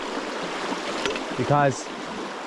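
Fast-flowing water from a flooded Irish stream rushes steadily in the background while someone speaks briefly over it.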